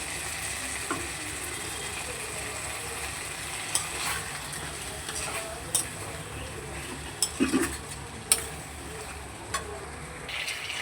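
Spice masala cooking in oil with water added, scraped and stirred in a pan for a vegetarian dish. A soft, steady sizzle runs throughout, broken by occasional sharp scraping clicks of the spoon against the pan.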